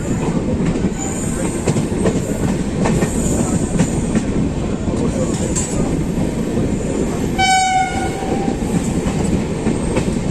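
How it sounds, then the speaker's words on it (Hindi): A Meerut–Rewari passenger train hauled by a WFP5 diesel locomotive rolls past with a loud, continuous rumble and wheel clatter, and a short horn blast sounds partway through. "मेरठ रेवाड़ी कोई ट्रेन आ रही है।"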